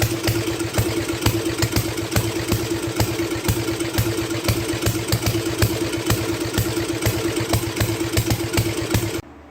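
An MTD 12/38 lawn tractor engine, bought at auction in poor shape, runs close by with a rapid, rhythmic putter and some mechanical clatter, holding steady before cutting off abruptly at the end.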